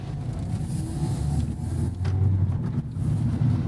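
Inside a 2024 Mazda ND3 Miata on the move, a low steady engine drone and road rumble fill the cabin, rising slightly as the car accelerates, with no talking.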